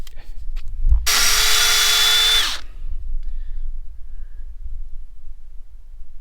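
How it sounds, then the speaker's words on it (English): A power drill whines loudly for about a second and a half as it bores into a tree trunk for sap tapping, then stops, leaving quiet outdoor background. "We'll drill that out quick."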